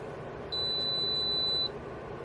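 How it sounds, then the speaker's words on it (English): A boat dehumidifier gives a single steady electronic beep of about one second, clear and fairly close over a quiet room hum. "We heard a beep."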